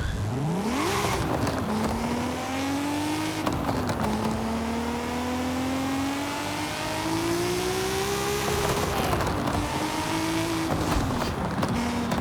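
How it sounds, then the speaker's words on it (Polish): A car in a Forza racing game drives along a highway, its engine droning steadily as the pitch climbs through several gear shifts, with revving rises and short dips, continuous and upfront with no talking. "przejedziemy się wzdłuż autostrady w pobliżu tych zjazdów i rozjazdów"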